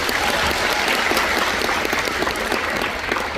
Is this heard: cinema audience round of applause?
yes